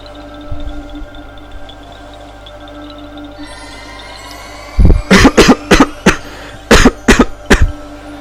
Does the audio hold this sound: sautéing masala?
no